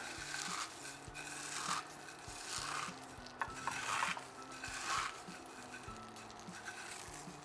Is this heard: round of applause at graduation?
no